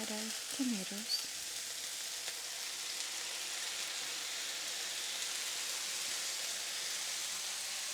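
Tomatoes hitting a pan with basil already in it and sizzling, a steady soft frying hiss that runs throughout at low volume, with a faint voice near the start.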